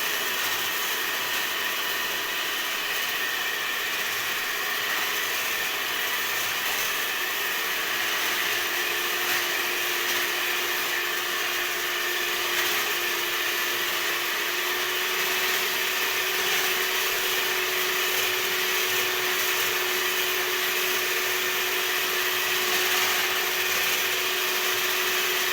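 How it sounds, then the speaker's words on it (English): Electric mixer whipping cream for cake decorating, a steady continuous whirring hum that holds level throughout with no talking. "Just keep moving the mixer"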